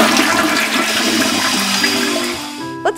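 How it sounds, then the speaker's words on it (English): A toilet flushes loudly and close up, one continuous rushing gush of water that fades toward the end with a brief gurgle. "What happens when you flush?"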